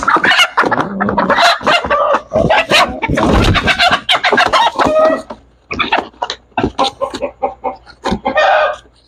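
Native Texas chickens are handled and boxed for shipping. Their loud, close clucking, squawking and crowing-like calls come in rapid overlapping bursts, with brief pauses between.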